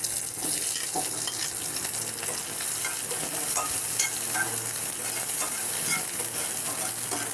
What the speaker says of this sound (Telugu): ఇవి వేపుకుందాం లైట్గా.